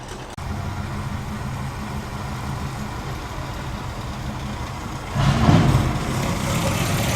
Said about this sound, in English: That is one great sounding Corvette.